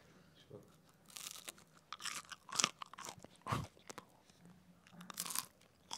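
Small air-fried potato fries, cooked in a General Mobile GM Airfryer, are bitten and chewed with loud, crisp crunches close to the mic in several bursts, with brief quiet gaps between them.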